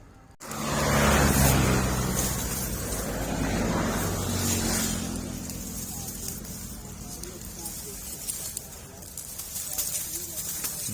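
A vehicle runs along a roadside, its engine and road noise rising loudly after a brief quiet start, then a steady rumble with a voice talking over it.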